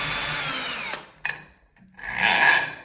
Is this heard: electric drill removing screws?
yes